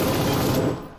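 Machine gun fire in a shooter game, a dense loud rattle of rapid rounds lasting under a second before tapering off abruptly.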